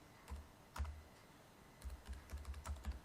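Quiet keystrokes on a computer keyboard, a few isolated taps followed by a quicker run of clicks, heard up close with no one talking.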